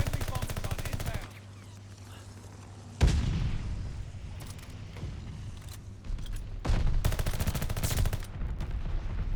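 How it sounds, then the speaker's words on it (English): Explosions and gunfire from a friendly bombing run in a first-person shooter game during a hardpoint match, with a sudden loud blast followed by dense rumbling bursts and rattling fire that swell again near the end. "Friendly bombing run inbound."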